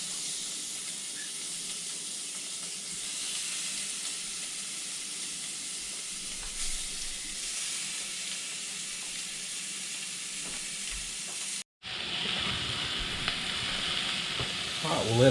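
Bass fillets sizzle and hiss loudly in a smoking-hot cast iron pan, a steady close frying crackle that briefly drops out and then resumes sharper as more fish goes in.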